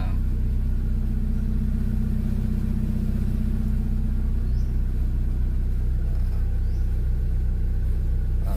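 A Hyundai Getz engine idles steadily after an ECU reset, giving a continuous low rumble at an even level from start to finish with no clear revving.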